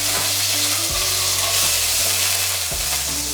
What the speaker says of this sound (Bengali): এখন ওই একই তেলের মধ্যে দিচ্ছি 1 টিস্পুন কালো জিরে ফোড়ন, সঙ্গে রসুন 3 থেকে 4টে ক্লভ আমি কুচি করে নিচ্ছি